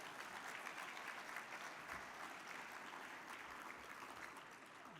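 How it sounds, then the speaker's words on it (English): Audience applause at an awards ceremony for a Common Good Award recipient, a steady wash of clapping from a large room, fairly faint and distant, holding throughout. "Let's give him a big round of applause."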